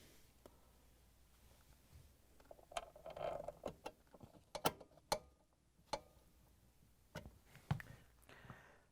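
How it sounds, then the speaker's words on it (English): A Torx 20 driver turns the screw holding the bottom of a Whirlpool, KitchenAid or Maytag washer door handle, giving scattered close clicks and ratcheting ticks with a few sharper taps, quiet between them and no talk. "Now we can use the Torx 20 driver to put in the screw that holds in the bottom of the door handle."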